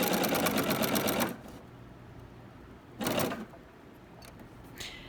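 A sewing machine stitches a table runner in two bursts, a fast mechanical whirring chatter up close, the first about a second long and the second briefer, with quiet pauses between.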